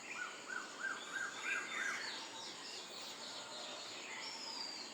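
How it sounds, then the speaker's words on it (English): Several birds singing in thick trees at early morning sunrise in summer in Khandesh, Maharashtra, with repeated chirping phrases and whistled calls over a faint background hum, moderately distant and quiet, with no talk. "The rising sun rouses birds."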